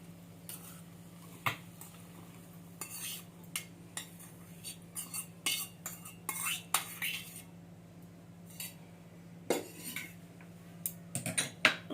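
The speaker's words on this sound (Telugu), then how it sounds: "దీన్ని మిక్సీ గిన్నెలోకి ట్రాన్స్ఫర్ చేసుకుందాం." Fried ingredients for a coconut mango chutney are scraped into a mixer jar in a home kitchen, with scattered, fairly quiet metal utensil clinks and taps coming in irregular bursts over a low steady hum.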